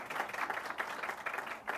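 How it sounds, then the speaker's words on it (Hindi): Applause in a TV studio during a political debate show: a brief burst of moderate clapping from a small audience that rises and falls in waves for about two seconds, with no voices over it. "तालियां भी बज गई।"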